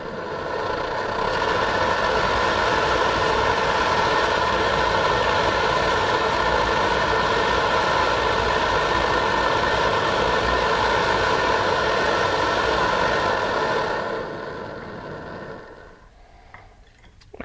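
An MSR Dragonfly camping stove burner roars at full power, a loud, steady broadband rush held for about fourteen seconds before tapering off to quiet, with no one talking.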